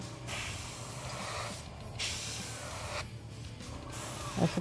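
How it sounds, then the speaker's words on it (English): An aerosol spray can hisses out paint in a few bursts, close and moderately loud, with brief pauses between sprays and a faint clatter near the end. "I should probably not spray toward my dragon, which is right in front of me."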